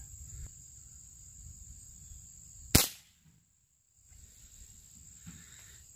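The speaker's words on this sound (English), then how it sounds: "this is a Benjamin Sheridan pellet gun. It's pumped all the way." A pumped Benjamin Sheridan pellet gun fires a single sharp crack, close and loud, standing out from a quiet outdoor background with a steady insect-like drone.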